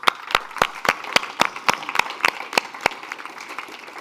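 Audience applause for Abdallah, an organizer of COY 17 in Egypt, at a youth climate adaptation dialogue: steady, evenly spaced claps in a brisk rhythm, sounding like a modest group clapping together at moderate volume with no talk.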